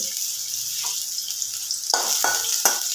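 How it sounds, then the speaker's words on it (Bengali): Half an onion, finely chopped, hits hot oil in a pan and sizzles steadily, with a few louder scraping stirs toward the end. "তেলটা গরম হয়ে গেছে এখানে আমি পেঁয়াজটা ছেড়ে দেবো"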